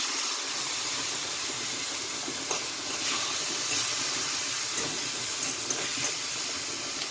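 Chicken liver and seasoning for a Jamaican-style dish sizzling in hot oil in a pot, a continuous broadband crackling hiss with occasional sharper pops, steady and close.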